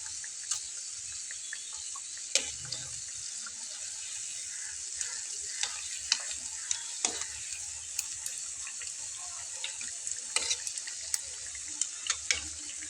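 A potato and bread snack fries golden brown in oil on a low flame, producing a steady hissing sizzle with scattered small pops and crackles, moderate in level with no speech.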